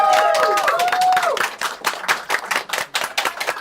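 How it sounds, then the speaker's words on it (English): Crowd applause and clapping at a Titanic anniversary gathering, a dense patter of many hands swelling loudly and then thinning. At the start a bright whistle-like tone slides downward over it. "We did not account for the applause."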